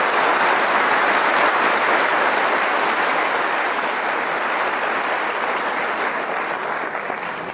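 Audience applause in a church during a Lenten conference given by a priest: loud, dense clapping from a large crowd continues steadily throughout and eases only slightly toward the end.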